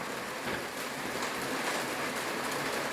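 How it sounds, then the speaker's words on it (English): Steady rain falls throughout, a dense hiss of drops pattering on surfaces, even and continuous with no voices. "can you hear that rain? It's a very rainy morning here."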